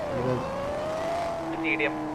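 A loud engine on the car called Sulthan 2.0 whines and drones with a rising, wavering pitch, close by and prominent for a couple of seconds.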